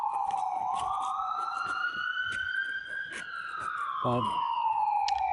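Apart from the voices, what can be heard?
ambulance and police car sirens in the city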